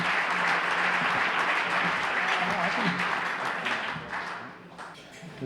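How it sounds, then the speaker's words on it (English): An audience claps steadily at an awards event honoring a Big Brother of the Year, a dense sustained round of applause that gradually thins and fades toward the end. "So please give a big round of applause for our Big Brother of the Year for Southern Minnesota, Casey Kamholtz."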